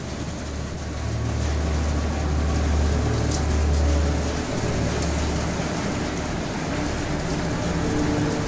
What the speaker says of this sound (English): And sometimes we get a lot of rain.